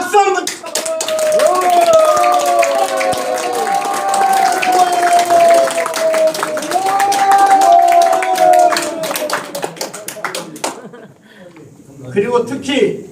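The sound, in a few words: audience applause at a year-end gathering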